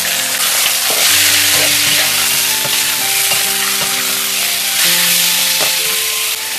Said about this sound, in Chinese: 锅里放点油，把这个姜、大蒜倒下去，保持蒜香味，然后把这个鸭肉倒下去翻炒。